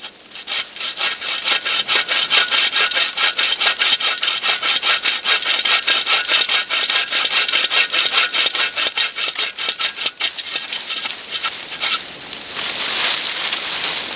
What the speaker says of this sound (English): Now let's take it over to some wood and see how well it does that saw stuff.